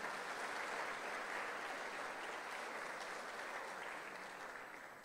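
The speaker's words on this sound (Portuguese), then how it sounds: "Você pode aplaudir o Senhor por isso?" A church congregation applauds in a dense, even wash of clapping that holds steady for several seconds before slowly fading toward the end.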